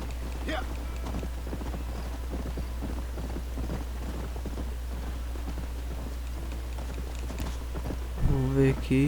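Horse hooves clip-clop at a steady walking pace in the Red Dead Redemption video game, a continuous rhythmic patter under soft rain-like ambience, with a louder burst of sound near the end.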